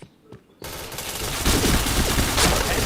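Gunfire in a shooter video game: after a brief quiet moment, a dense, loud burst of rapid automatic shots rattles on continuously to the end.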